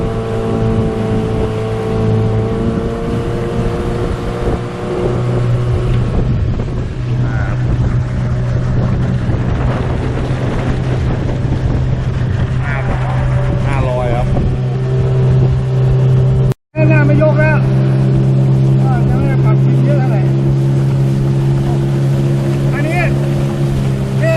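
A 15 hp Seatan outboard motor on an 11-foot aluminum flat-bottom boat drones loudly and steadily at partial throttle during run-in, its engine tone rising and shifting, with wind buffeting the microphone.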